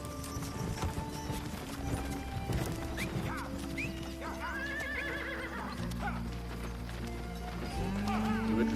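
Horses whinny and neigh while hooves clip-clop in a frontier setting, with a prominent drawn-out whinny in the middle, ongoing hoofbeats and rumbling movement, and some voices mixed in at a moderate distance.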